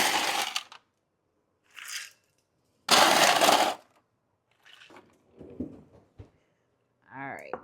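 Ice goes into a container of water for an ice bath, making short clattering, cracking bursts between pauses, with a person talking nearby.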